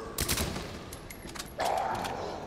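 In Resident Evil 2 Remake, Claire fires an SMG in rapid bursts of sharp, close shots, with a short pause between bursts.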